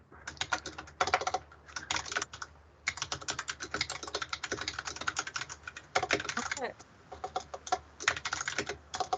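Rapid typing on a computer keyboard comes through an open microphone during an online meeting, dense bursts of clicking keys with short pauses and a single spoken word.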